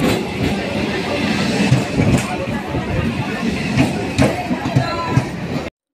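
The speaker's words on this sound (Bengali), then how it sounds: "চলে এসেছি স্টেশনে, আর ট্রেনও কিন্তু অলরেডি চলে এসেছে" Rumbling train noise with clanks and metallic knocks, busy and fairly close, along with bits of crowd chatter and movement.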